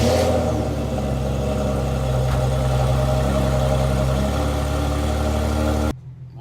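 An Infiniti Q50 with a newly installed 1320 Performance Y-pipe idles close and loud, a steady deep rumble that holds for about six seconds, then cuts off abruptly.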